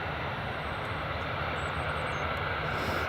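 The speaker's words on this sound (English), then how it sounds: "Aer Lingus is just on short final now" An Aer Lingus airliner on short final approach at Edinburgh Airport gives a steady, loud engine roar with a faint high whine, heard without talk.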